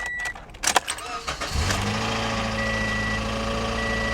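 Clicks and a brief crank, then a flood-damaged Mercedes engine catches and settles into a steady idle with a light ticking chatter.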